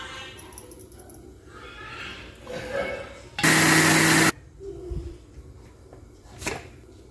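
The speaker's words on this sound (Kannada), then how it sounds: "ಈಗ ಇದನ್ನು ಒಂದು ಮಿಕ್ಸಿ ಜಾರಿಗೆ ಹಾಕಿ ರುಬ್ಕೊಳ್ಳೋಣ" Mixer grinder jar blending a cooled broccoli gravy paste with a little water, a loud steady whirring grind lasting about a second, set between quieter kitchen handling sounds.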